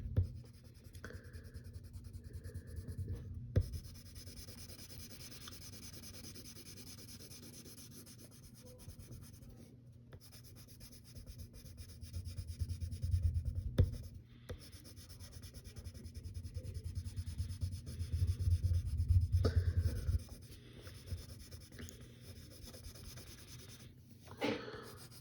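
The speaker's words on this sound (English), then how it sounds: "Then you can get the side of your pencil and just color everything else." Pencil lead rubbed sideways across paper while shading in a Minnie Mouse drawing, a steady soft scratchy rasp that swells and fades in long strokes, close and quiet with no talking.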